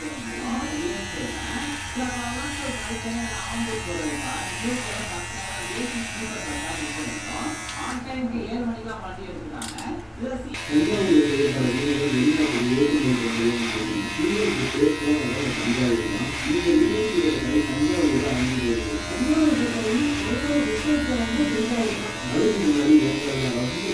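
A Beardo electric trimmer buzzes steadily while it cuts a thick beard, a close, continuous motor drone with brief gaps, and someone talks over it throughout.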